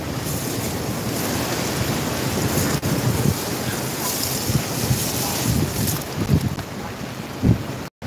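Heavy rain and strong wind pound the waterfront during a storm surge at Nato Port, Barangay Nato, Sagñay, Camarines Sur, a steady loud broadband roar with gusty surges and a few brief thumps, no talking.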